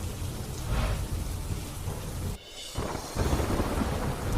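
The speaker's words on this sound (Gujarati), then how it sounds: "પાદરામાં વરસ્યો ધોધમાર વરસાદ" A heavy monsoon downpour in Padra roars in a dense, continuous wash of rain with deep thunder rumbling beneath it, briefly cut off partway through before surging back.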